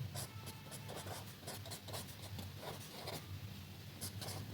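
A pen or pencil writes on paper to label a geometry drawing, giving faint, close scratchy strokes in short bursts over a steady low background hum.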